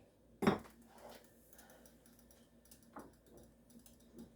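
A pot of ground beef is stirred with a utensil: one sharp, loud clank against the pot, followed by faint, soft scraping and light knocks.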